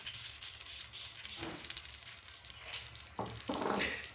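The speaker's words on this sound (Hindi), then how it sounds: "घी को थोड़ा सा मेल्ट करेंगे" Desi ghee melting in a kadhai for moong dal halwa gives off a faint, steady low sizzle and soft hiss, quiet and close, with a few slightly louder crackly bursts toward the end.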